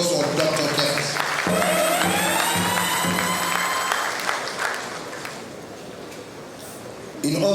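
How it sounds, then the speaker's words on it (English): The crowd at an investment showcase event in Taraba, Nigeria, gives a round of applause. The clapping holds strong for a few seconds, then tapers off under a sustained tone and crowd murmur. "a good resounding round of applause for Dr. Kent"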